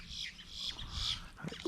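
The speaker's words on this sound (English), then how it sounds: "That's a big blackbird." A large blackbird calls in a Louisiana cypress swamp, heard from a kayak; sharp chirping notes come and go over steady wetland background noise, fairly faint.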